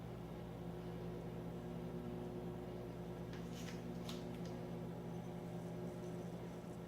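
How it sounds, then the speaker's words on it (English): A repaired microwave oven with a fixed door latch runs with a steady, quiet electrical hum and a low drone, with faint brief clicks partway through. "you have a working microwave."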